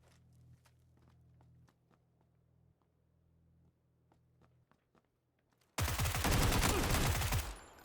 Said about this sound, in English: someone with a bolty shot at me